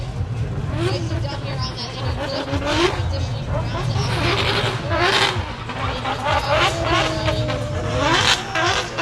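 A rear-wheel-drive car drifts through a course at a drift event, its engine revving and tires scrubbing in repeated surges, with crowd noise and talk over a steady rumble throughout.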